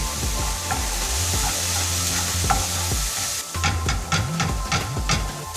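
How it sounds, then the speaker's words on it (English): A spoon stirs chili powder, savory, oregano, basil and thyme through a sizzling vegan pizza topping in a pan on the stove, with steady frying hiss and a run of quick scraping strokes near the end. "And give it a good mix."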